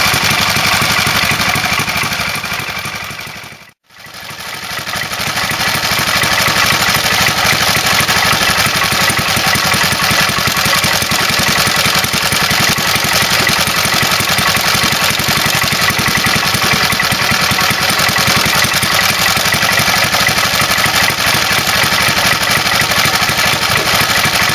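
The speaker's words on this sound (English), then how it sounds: "Powerful little engine." A J.A.P 500cc dry-sump stationary engine running on oil-mixed fuel, a loud steady drone that briefly dips near the start, then runs continuously and evenly close up.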